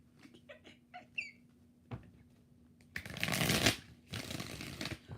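Tarot cards shuffled by hand in a few quick riffling bursts, some short, light card flicks first, then two louder, sustained crackling shuffles close up, with no talking.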